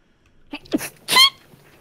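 A single sharp human sneeze bursts out close by after a short intake of breath, clear and loud against near silence.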